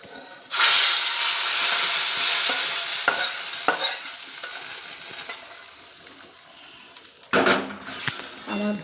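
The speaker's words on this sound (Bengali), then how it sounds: "এটা আমি এই খিচুড়ির মধ্যে দিয়ে দেব," Fried cashews and raisins in ghee tipped into a pot of bhoger khichuri and stirred, giving a steady hissing sizzle with scraping strokes, close and fairly loud throughout, a louder clatter near the end.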